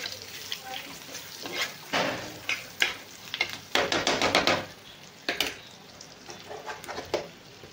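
Spice masala roasting in oil in a pan after the gas is switched off, for an egg curry: a spoon scrapes and stirs in uneven bursts over a soft, steady sizzle, close by and with no talking.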